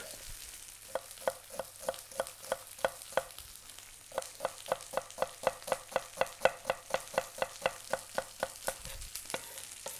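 Artichokes frying in a pan crackle in a fast, even run of sharp pops and taps over a soft sizzle, close by and without talk.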